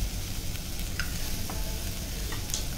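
Grated coconut sizzles and fries in a pan with a steady crackling hiss, punctuated by a few faint stirring scrapes, no voices.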